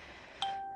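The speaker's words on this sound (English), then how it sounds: "Did you hear my phone? My phone was like, bing." A phone gives a single short, bright notification chime that rings on with a sustained tone, faint and alone against quiet room noise.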